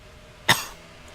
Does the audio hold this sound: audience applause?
no